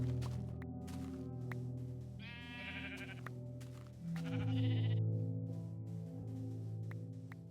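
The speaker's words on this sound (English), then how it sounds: "Oh wait, it's a lot of sheep." Several Minecraft sheep bleat in overlapping, wavering cries, with a steady low background hum underneath throughout.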